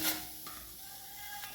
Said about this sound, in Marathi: कढईमध्ये आपल्याला ही गवार टाकायचं आहे।